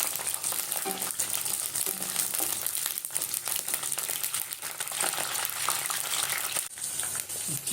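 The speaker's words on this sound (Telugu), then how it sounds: "నూనె కాగిన తర్వాత మిర్చిని వేసి వేయించాలి" Green chillies fry in hot oil for a Telugu tomato roti pachadi, giving a steady, close crackling sizzle with occasional stirring clinks throughout.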